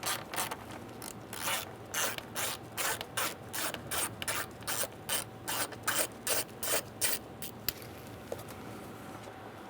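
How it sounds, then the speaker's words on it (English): A ratchet with an 8mm socket and extension loosens the battery hold-down bolt on a 2000-2007 Ford Taurus, giving steady, evenly spaced clicking strokes, close and clear, repeated about twenty times. "we're going to use an 8mm socket and an extension, and we're going to loosen our hold down bolt"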